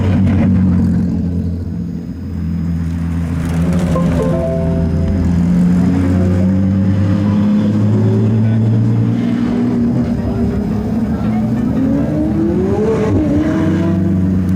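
A McLaren sports car at a Le Mans weekend event at a car museum, its engine droning loudly and steadily and climbing in pitch as it accelerates, with a voice briefly audible over the engine.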